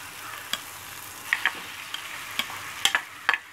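Beef going into a frying pan over soft cooked tomatoes and vegetables, a steady low sizzle broken by several sharp clicks and scrapes of stirring, close and fairly quiet with no talking.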